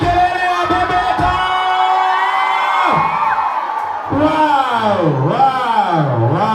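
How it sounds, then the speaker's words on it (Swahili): A crowd at a live Kikuyu music performance cheers and whoops loudly, with shouting voices rising and falling over continuous noise, mixed with amplified vocals. "Wapi makofi na kelele ya bebeta?"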